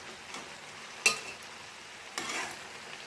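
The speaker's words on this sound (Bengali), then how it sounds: "এটাতে কষা দিচ্ছি। মাংসটা পুরো কষাবো যতক্ষণ তেল না ছাড়ে" Mutton with cumin and coriander powder is stirred and fried in a small wok, giving a faint, quiet sizzle with two sharp scraping knocks from the stirring.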